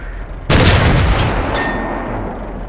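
A tank cannon fires in World of Tanks, where the KV-5 is in play. A single loud, close boom is followed by a long rumbling decay, with a fainter second crack about a second later and no speech.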